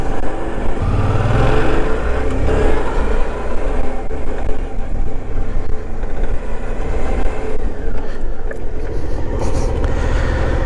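A motorcycle rides at about 40 km/h and then brakes with ABS engaging, making a loud, steady engine and wind roar that eases slightly toward the end, with no talking.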